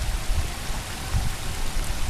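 Water spilling over the notched weirs of a water treatment basin, a steady, close rushing and splashing wash with no pauses, alone without voices.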